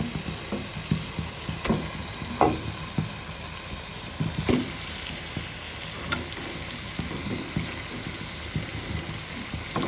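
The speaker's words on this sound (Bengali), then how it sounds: "তো এখন মশলাটা কষানো হয়ে গেছে, আমি মাছের মাথাগুলি দিয়ে দিচ্ছি।" Rohu fish heads frying in cooked spice masala in a pan, a steady close sizzle with intermittent sharp crackles and spoon stirring clinks, no talking.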